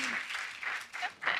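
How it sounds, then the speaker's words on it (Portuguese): Faint, uneven applause from a small live podcast audience, rising in short bursts and then easing off, somewhat distant and soft. "Pode aplaudir, gente"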